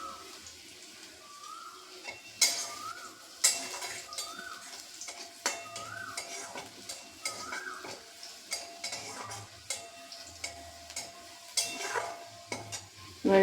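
Chopped onion and garlic frying in a pan for a moringa-leaf mung dal, a close steady sizzle broken by repeated clinks and scrapes of a spoon stirring against the metal.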